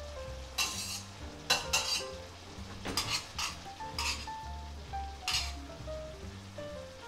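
Mushroom spaghetti tossed and mixed in a frying pan, with repeated scraping strokes and light clinks of utensils against the pan over a faint sizzle, close and moderately quiet, with soft background music.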